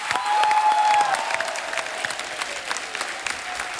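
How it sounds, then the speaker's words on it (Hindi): A studio audience at a TV comedy show applauds steadily throughout, a sustained wash of clapping with a faint tone near the start. "जोरदार तालियां होनी चाहिए यार"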